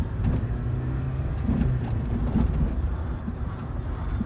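Citroen Saxo VTR driving along, heard as a steady, close engine and road drone with low humming tones and a constant broadband rumble throughout, with no clear separate rattles standing out.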